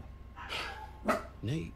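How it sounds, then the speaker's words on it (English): Pet dogs give a couple of short, close barks with a yip, cutting in between a person's speech. "Sorry about my dogs."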